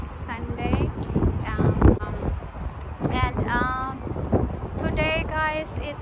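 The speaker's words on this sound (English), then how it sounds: "it is so windy" Strong wind buffets the microphone outdoors on a blustery Sunday afternoon in San Francisco, rumbling steadily throughout while people talk over it.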